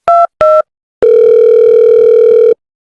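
A telephone sounds two short beeps, then a longer steady dial tone while a call is placed, all loud and clear with no voices.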